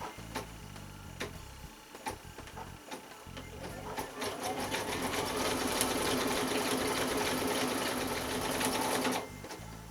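An embroidery machine stitches a curling iron case held in the hoop, with a few start-up clicks followed by a steady, fast mechanical whirring drone that runs several seconds before stopping abruptly.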